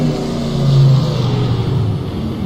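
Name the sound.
race car engine in rFactor 2 video game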